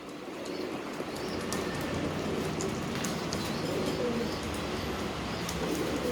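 Iraqi tumbler pigeons cooing outdoors, soft repeated coos over a steady broadband background hiss with no talking.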